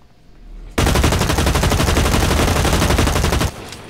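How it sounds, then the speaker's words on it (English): Rapid automatic gunfire from the video game Blacklight Retribution, a loud sustained burst of about three seconds that starts abruptly and cuts off sharply, standing alone without talk. "I hear shooting."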